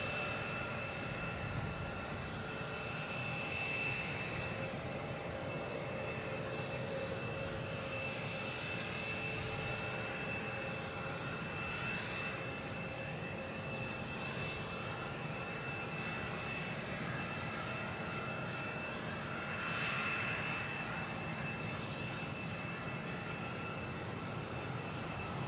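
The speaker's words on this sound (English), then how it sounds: "next taking off, we have a Southwest heading to Denver" A Southwest jet bound for Denver takes off from Boston Logan, its engines a steady, broad roar held at an even level for the whole stretch, with a thin sustained whine riding on top and no voices.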